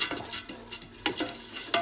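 Panjeeri ingredients cook in a teaspoon of ghee, with soft sizzling and a few sharp scrapes of a spoon against the pan, close and quiet with no voices.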